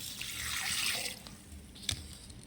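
Homemade liquid fertilizer made from kitchen waste is poured onto the roots of plants in a garden, a steady splashing trickle of liquid with a brief louder splash near the end.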